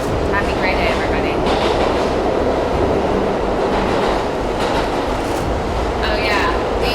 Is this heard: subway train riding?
yes